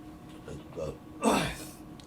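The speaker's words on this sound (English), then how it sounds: "Had to burp, right?" A single short burp from a man, sounding close and somewhat muffled, with a low throaty swell in the second half of the brief moment.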